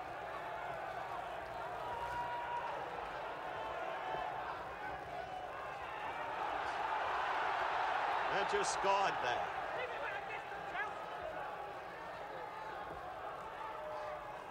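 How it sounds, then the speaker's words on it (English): A British boxing crowd at a fight between Minter and Hagler, roaring in a broad swell that rises to a peak and then eases back, heard under a commentator's voice. "You'll hear this British crowd roar with every exchange"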